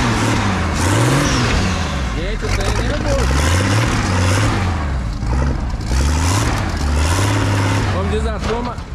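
A Chevette Marajó fitted with a turbocharged 4.1 Omega engine starts and revs hard, with loud repeated rising and falling engine surges that continue throughout. Voices can also be heard.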